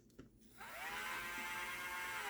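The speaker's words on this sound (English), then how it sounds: "You don't want to have your Dremel too fast if you're doing this because you'll just melt the plastic." A Dremel rotary tool spins up at low-medium speed and sands plastic with 320-grit sandpaper, making a steady high whine after a brief click and start-up, close and fairly quiet.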